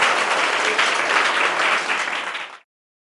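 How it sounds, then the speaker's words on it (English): A classroom applauds the winning Team B, a bright, steady burst of many clapping hands that holds for about two and a half seconds, then cuts off into silence. "have a clap for Team B"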